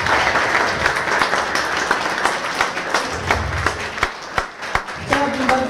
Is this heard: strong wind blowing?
no